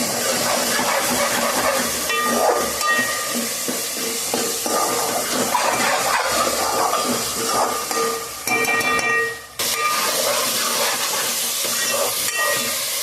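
Onions for a chicken curry sizzle and hiss steadily in a hot pan, a loud, dense crackling frying sound that briefly dips before resuming at full intensity.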